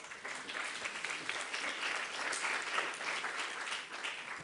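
Audience applause at a colloquium on peer support, steady clapping from a room full of people throughout, fairly close and even, swelling slightly in the middle.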